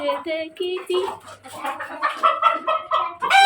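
Chickens and young chicks cluck and peep close by in a steady run of short, varied calls, one louder squawk near the end and no talk in between.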